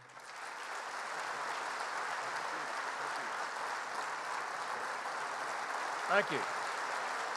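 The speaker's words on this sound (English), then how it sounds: "let's applause for the next governor's speech" Sustained crowd applause for a governor at the 2015 Eggs & Issues Breakfast, a broad, even roar of clapping throughout, with a brief spoken voice near the end over the continuing applause.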